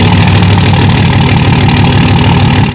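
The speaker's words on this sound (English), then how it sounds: "So here's cold start up." A 2005 Cummins diesel truck engine on a cold start rumbles and clatters at a steady, rapid idle, close up and continuous with no voices.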